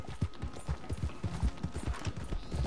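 Steady clip-clop of horse hooves trotting at an even rhythm in Red Dead Redemption 2 Online, close and moderately loud, with no voices.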